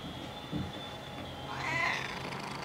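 A cat in the video game Spider-Man: Miles Morales lets out a faint, drawn-out meow partway through, over a low background hum.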